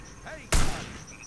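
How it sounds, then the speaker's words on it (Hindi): A single sharp gunshot cracks out during a guard alert in Hitman Blood Money Reprisal on mobile, one loud brief report standing out against quiet background game sound. "अरे गोलियां चलने लगी यार"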